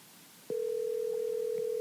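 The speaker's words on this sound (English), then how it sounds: "We're going to get him on the phone right now." Telephone dial tone heard while a call is placed to a bass fishing pro: a steady, clear single-pitch tone starts abruptly after a brief quiet hiss and holds evenly to the end, with no voices.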